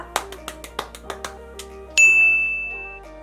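A notification bell effect sounds as a bright, sustained ding that rings out and fades, preceded by a quick run of light clicking taps, clean and without talk.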